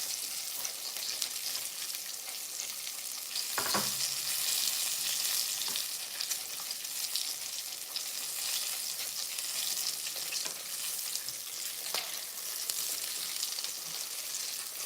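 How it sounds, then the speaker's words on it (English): Turkey breast frying in hot oil, a constant hissing sizzle with crackles and pops, steady throughout and fairly quiet, interrupted by a couple of sharp clatters from stirring or handling the pan. "The breast not taking no time to fry."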